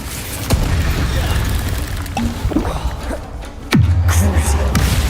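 A fire spell cast in Hogwarts Legacy, heard as a few sharp whooshing bursts and booming impacts with a deep rumbling swell, loud and close over a constant game backdrop.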